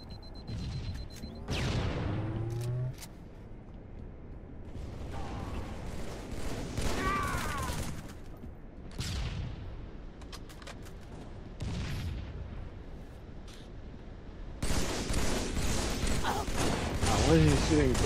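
Intermittent gunfire and booming blasts in the Halo video game, scattered shots and heavier explosions spread across the stretch, with game sounds and a player talking between bursts.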